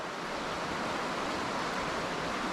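Water washes steadily against a pebbly beach, a continuous, even rush of surf-like noise that stays loud throughout with no pauses.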